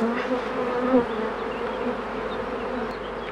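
Honeybees buzz at an opened hive, a dense, close, continuous hum of many wings, swelling briefly then steady.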